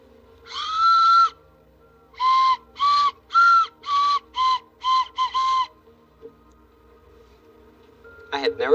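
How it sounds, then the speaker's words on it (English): A hammer-shaped whistle is blown in a series of toots: one longer blast, then six short rhythmic bursts, each loud and close, followed by a lone quieter chirp. "Here's a whistle that looks like a hammer."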